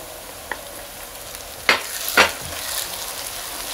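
Bitter gourd and onion fry in a pan, a soft steady sizzle broken by a few quick stirring scrapes near the middle.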